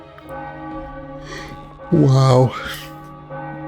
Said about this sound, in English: The mechanism is damaged, it doesn't work, but the bell keeps ringing